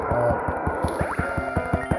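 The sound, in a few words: Muddy Water attack effect in Pokemon Gaia video game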